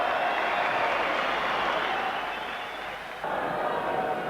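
A big crowd fills Cardiff International Arena at a boxing match, producing a loud, steady wash of cheering and applause with a slight dip midway before swelling again.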